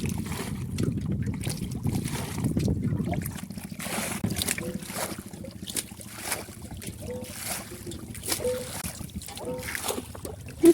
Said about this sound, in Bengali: এইভাবে করে পানি আমি সেচতেছি